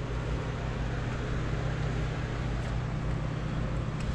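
The engine of a 1971 Dodge Challenger R/T runs loud and close after a cold start, holding a steady rumbling drone throughout.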